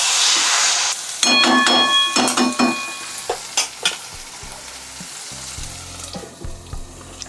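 Mutton keema being sautéed in oil in a pan: sharp clanks and scrapes of a spatula over a hissing sizzle, then the stirring thins out into softer sizzling, close and without talk.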